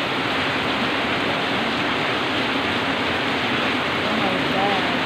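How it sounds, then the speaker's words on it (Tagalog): Heavy, unrelenting rain pours near a garage, a thick constant hiss and roar. A faint voice rises briefly near the end. "Hindi nahihinto ang ulan. Ang lakas."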